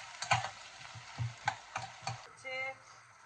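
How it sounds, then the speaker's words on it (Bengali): Potatoes lightly frying with ginger paste are stirred in a pan, giving a quiet series of spoon scrapes and soft taps over a faint sizzle, with no voices. "দিয়ে আদা বাটা দিয়ে অল্প করে নাড়াচাড়া করে"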